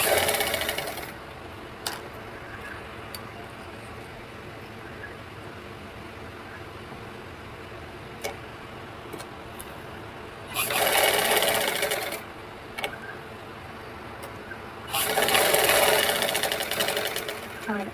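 A sewing machine stitching the lining of a blouse, quiet at first with a few clicks, then two loud bursts of rapid needle running a couple of seconds each, close to the microphone.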